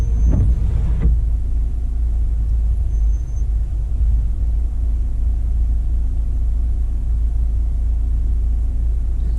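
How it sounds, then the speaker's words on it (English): A fourth-generation Toyota 4Runner reverses slowly, a steady low engine rumble holding throughout after a brief mechanical clunk near the start, loud and close with no voices. "I'm gonna start backing up the car now"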